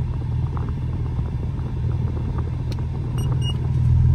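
A 2001 Audi B5 S4 Avant with a big turbo and six-speed manual idles close by, a steady low rumble that swells slightly toward the end, no voices.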